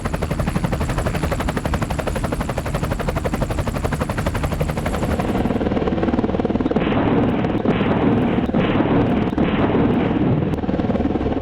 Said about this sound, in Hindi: आज हिंदुस्तान के पास दुनिया का सबसे ताकतवर multi role combat helicopter Apache है।